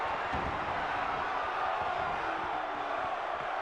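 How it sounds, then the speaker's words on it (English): A steady, dense crowd roar with chanting fills a wrestling arena in WWE 2K22, constant and loud throughout with no breaks. "The crowd is saying one more time, we're out of tables."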